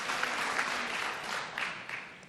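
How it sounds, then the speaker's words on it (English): Audience applause at a New York 23rd District congressional debate, a steady dense wash of many hands clapping throughout, fairly distant and even, with no talk over it. "Please hold your applause."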